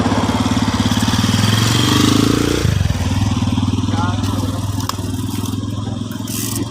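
A motorcycle engine starts up and runs for motor-pace cycling training at Seaside MOA, a steady loud rumble with a shift near the middle, under voices talking close by.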